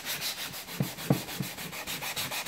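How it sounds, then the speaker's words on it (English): Sanding the cut edge of an MDF board with 240 grit sandpaper by hand, a soft steady rubbing with a few brief louder scuffs, close and alone. "So the first thing to do with this edge is to sand it. This is 240 grit sandpaper"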